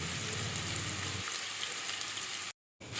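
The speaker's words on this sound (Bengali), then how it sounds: "এবারে এই সমস্তটাকে খুব ভালো করে ভেজে নিতে হবে।" Cumin, whole spices, and onion, ginger and garlic paste fry in hot oil with a dense, steady sizzle. The sizzle breaks off briefly near the end and then picks up again.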